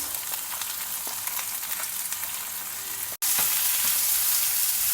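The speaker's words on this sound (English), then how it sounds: "Stir fry the onion, green chilli in the oil." Sliced onions and chopped green chillies stir-frying in hot oil with cumin seeds in a pan, a loud continuous sizzle with scraping stir noises, briefly cutting out then resuming even louder.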